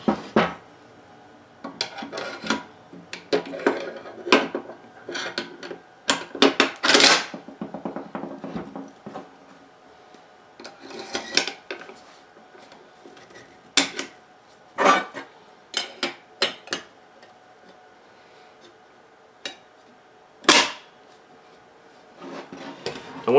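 Metal parts of an AK rifle being reassembled with a Damage Industries rail, giving scattered clicks, clacks and rubbing scrapes in irregular bursts, close and fairly loud, with no talk.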